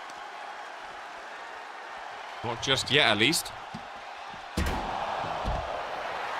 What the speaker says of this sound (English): And you can hear the cheers from the crowd